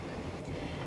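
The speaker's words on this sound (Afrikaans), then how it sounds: "Die skommel van die waans en die klik-klak oor die spore." A train carriage rumbles steadily over the rails, a dense continuous low clatter heard from on board, with no talk over it.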